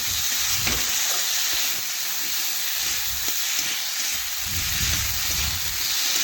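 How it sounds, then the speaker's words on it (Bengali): Cauliflower pieces frying with chili powder and spices in a pan make a loud, continuous hiss and sizzle close up, with faint scrapes of stirring beneath and no voices. "এখানে 2-3 মিনিট আমি মশলার সাথে ফুলকপি কষে নেব"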